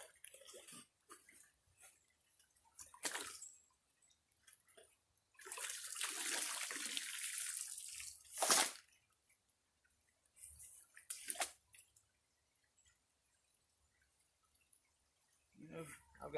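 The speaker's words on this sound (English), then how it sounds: "I've got plenty of water flow" Water flowing and splashing at a gold prospecting site on bedrock in Forsyth County, coming in irregular rushing bursts of varying length with quiet gaps between, close to the microphone.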